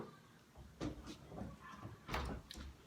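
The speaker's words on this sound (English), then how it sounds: "Let me close this door." An indoor door is pushed shut in a home, giving a couple of short knocks and thumps with a soft rattle, moderately quiet with no talk over it.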